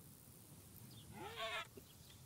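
A pig in the survival video game Dawn of Defiance lets out a single short, faint squealing grunt at a distance, heard over a low ambient background with no one talking.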